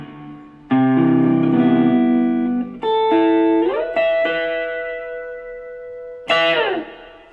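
Electric guitar chords ring out through a TC Electronic Spark Boost pedal with overdriven, boosted tone, several sustained strums fading between hits, with a final bright chord near the end.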